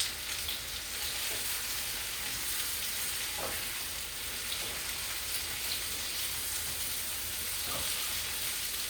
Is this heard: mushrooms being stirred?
yes